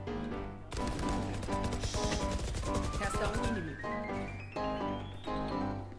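Rapid automatic gunfire in the Valorant video game, a dense burst of close shots lasting a few seconds, then scattered single shots and game effects, fairly quiet overall.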